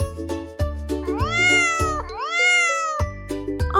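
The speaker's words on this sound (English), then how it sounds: "Let's hear how the cat sounds." A cat meows several times in a row, with drawn-out rising and falling cries, loud and close with no other sound around them.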